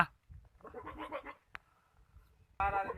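Goat at a goat farm giving short bleats, one near the middle and a louder, close bleat at the very end, with faint sounds and quiet stretches in between.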